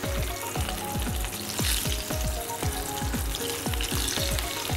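Potato pieces deep-frying crisp in fully heated oil, a dense, loud bubbling sizzle with rapid popping bursts throughout, steady and close.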